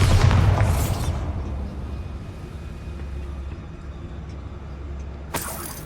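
Bombarda blasting spell in Hogwarts Legacy going off as a heavy booming explosion at the start, its rumble decaying over several seconds, then a sharp burst of noise near the end.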